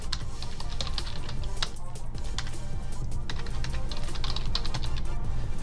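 Rapid typing on a computer keyboard, a steady stream of close, crisp key clicks running throughout without pause, with a low room hum beneath.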